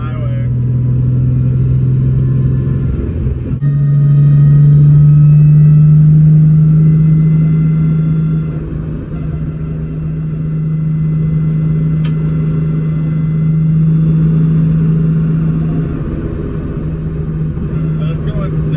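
A Nissan 370Z fitted with solid subframe bushings cruises on the highway, a loud steady low engine drone and road rumble filling the cabin, with a short dip early on and a voice speaking over it.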